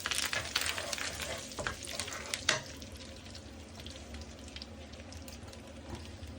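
Dried red chillies and salted buttermilk chillies frying in hot oil, a crackling sizzle that is loud at first with sharp pops and stirring, then settles into a softer steady fry.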